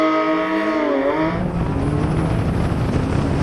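A Porsche GT3 RS and a BMW M3 CS in a rolling race, engine note sweeping upward then settling into a steady roar under a rising hiss, heard close and without talk.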